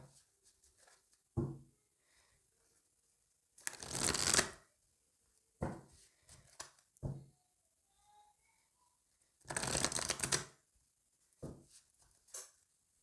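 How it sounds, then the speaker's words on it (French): Oracle cards for a tarot reading being shuffled in a quiet room, several crisp riffling bursts with soft taps and card handling between them, close and fairly loud. "on va aller recouvrir ça encore avec l'oracle d'Annabella"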